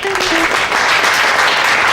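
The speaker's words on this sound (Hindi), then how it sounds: "तालियां।" A brief burst of crowd clapping, dense and loud, with a short tone at the start.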